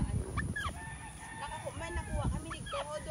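Hens and chickens clucking and squawking repeatedly at close range on a Philippine island farm in Guimaras, Iloilo, with a rooster-like cry among the calls and faint voices in the background.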